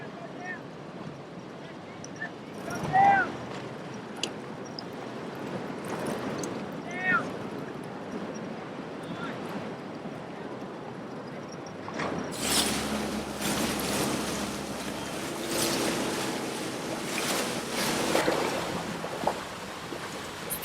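A boat cruising on open ocean from Musket Cove toward the islands near the Cloud Break surf area, with steady wind and water rush that grows louder and rougher partway through; voices are heard briefly.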